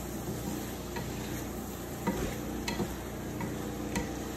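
A spoon stirs food seasoned with Italian seasonings in a pan, giving a steady soft sizzle with scattered light scrapes and taps, close and alone with no talk.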